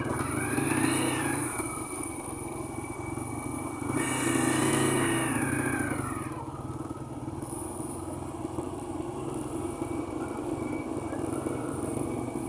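A motorcycle travels a rain-damaged mountain road in Buner, its engine droning steadily up close with a rise in revs partway, alone without talk.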